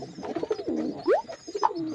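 Allahabadi pigeons cooing close by, soft throaty coos in short phrases with a rising call in the middle, alone and fairly quiet.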